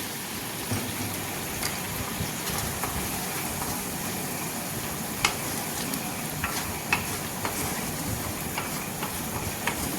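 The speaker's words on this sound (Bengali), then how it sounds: "টমেটোটা যতক্ষণ নরম না হয় আস্তে আস্তে কষাবো মশলা" Tomato pieces and ground spices frying in a pan for pabda fish curry, a steady close sizzle with scattered stirring clicks and scrapes throughout, no voices.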